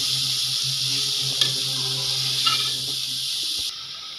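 Shredded cabbage frying in hot ghee gives off a steady, bright sizzle and hiss that runs evenly throughout, with a low hum underneath. It cuts off sharply near the end.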